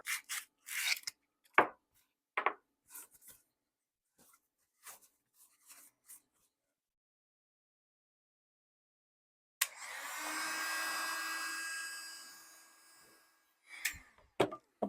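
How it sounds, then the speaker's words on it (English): Sandpaper rubbing over a Peterson Tankard tobacco pipe: a few short scratchy strokes early on, a long quiet pause, then one sustained close rasping pass of about four seconds, followed by brief scrapes. "I'm going to sand a little bit more."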